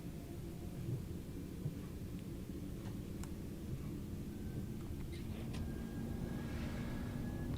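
Rain from Train Sim World 3 on the Birmingham Cross City Line drums steadily against a train cab window, a constant hiss over a low engine rumble, with no talking.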